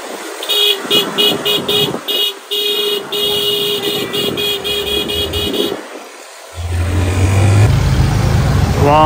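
Busy street traffic in a Port-au-Prince market area in Haiti, heard from a moving motorbike, with repeated short car horn toots, a steady engine drone and a deeper rumble swelling near the end.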